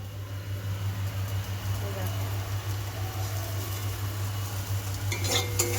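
Bitter gourd frying in a pan gives a steady low sizzle, with occasional soft stirring scrapes and clinks near the end, all at a modest level without talk.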